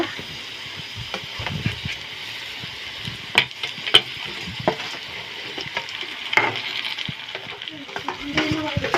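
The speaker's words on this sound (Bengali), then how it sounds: "ফ্রাই করা হচ্ছে।" Ground spice paste for a Bengali kuche (eel) fish curry fries in a pan with a steady, close sizzle broken by stirring scrapes and a few sharper clinks, with no one speaking.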